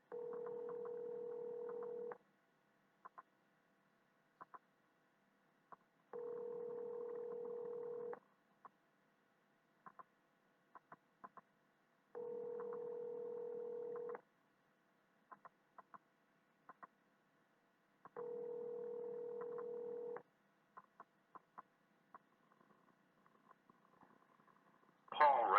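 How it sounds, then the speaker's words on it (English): Outgoing phone call: four evenly spaced two-second ringback tones with pauses between them, clear and close, scattered faint clicks in the gaps, and a brief louder noise at the end. "So I'll try to call him one more time."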